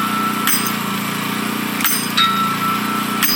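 A pile-driving machine hammers a foundation pile at a construction site. Three heavy, ringing blows land about 1.4 seconds apart over a steady engine drone.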